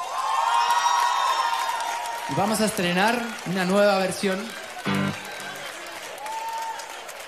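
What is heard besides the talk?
live audience applause and cheering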